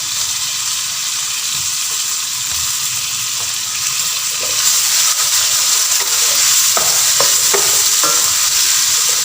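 Tomatoes frying in a pot of mutton dalcha, with a steady loud sizzle and scattered scraping clicks from stirring throughout, sounding close.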